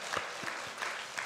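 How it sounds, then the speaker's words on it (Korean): A church congregation claps during a Sunday service, a brief soft patter of applause, quiet and a little distant. "우리 감사하다고 박수하겠습니다"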